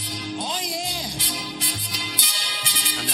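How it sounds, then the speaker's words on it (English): A Zenith Royal 2000 portable radio modified for brighter treble plays music with a strong, fairly bright top end and steady full-band sound, close and fairly loud. "And that's the sound of the modification."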